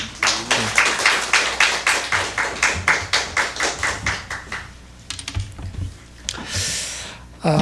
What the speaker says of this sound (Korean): 선교사님 나오실 때 힘찬 박수로 환영하겠습니다